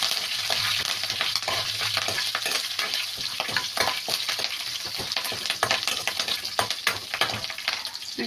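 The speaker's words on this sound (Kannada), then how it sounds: "ಕರ್ಬೇವಿನ ಸೊಪ್ಪು ಈ ರೀತಿ ಚೆನ್ನಾಗಿ ಫ್ರೈ ಮಾಡ್ಕೊಳ್ಳಿ" Curry leaves and green chillies frying in oil in a pan, a dense, continuous sizzle with scraping stir strokes throughout, close and fairly loud.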